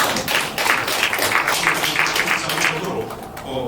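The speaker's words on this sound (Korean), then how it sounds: "박수 한번 좀 드리겠습니다." A conference audience gives a round of applause at an international academic symposium on Confucian thought and Toegye studies, steady dense clapping filling the whole stretch at moderate volume with a faint murmur beneath.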